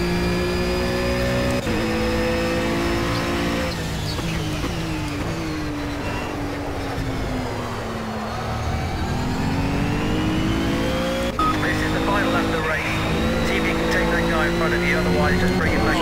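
Ginetta GT4 race car engine in the Project CARS racing game at Zhuhai, revving loudly and steadily through gear shifts with rising and falling pitch, close and continuous, with someone talking over it.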